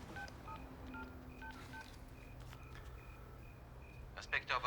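A telephone is dialed in a 1998 film scene, a string of short keypad tones in an irregular rhythm that sound close but quiet, followed by a louder burst at the end.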